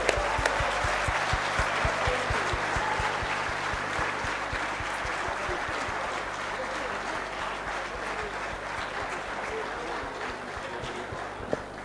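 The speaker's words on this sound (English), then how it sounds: "Clap your hands, everybody, for Mr. Imran Khan." An audience at a Lahore management and HRD summit claps for Imran Khan, a long, even round of applause from a large hall with sharp individual claps standing out, no voices over it.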